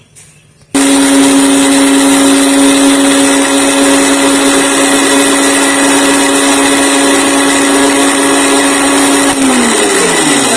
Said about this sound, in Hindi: इसी तरह मैं अदरक लहसुन और हरी मिर्च का पेस्ट बना लेती हूँ, ग्राइंडर में ही बना लेती हूँ।